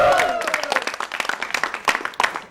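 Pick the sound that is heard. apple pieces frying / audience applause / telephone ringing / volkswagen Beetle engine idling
audience applause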